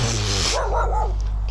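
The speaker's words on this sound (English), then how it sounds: "bloody hell, the dogs" Several dogs bark and yip loudly nearby in a brief burst over a steady low background hum.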